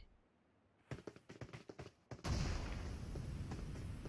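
Bomb blasts and gunfire in the battle-royale game PUBG: a quick run of sharp, separate shots, then a heavy explosion that swells into a loud, sustained roar until the end.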